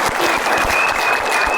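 Studio audience at a Saturday afternoon game show applauds, a loud, dense, continuous clapping that fills the whole moment.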